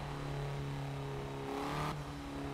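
Hyundai Veloster in a racing video game on the Nordschleife, engine holding a steady droning rev with a rising whine before a brief drop, heard alone and fairly quiet.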